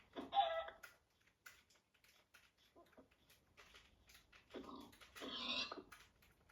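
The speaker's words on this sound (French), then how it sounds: "Encore un cochon, mais attends, mais c'est pas possible." Pigs in a video game let out grunting, squealing bursts, one cluster near the start and a louder, longer run toward the end, with quiet gaps between.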